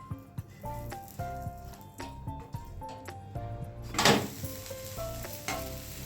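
A Mumbai-style masala sandwich toasts in a buttered pan, giving a steady close sizzle with a brief louder burst of frying crackle midway, alongside soft tonal background music.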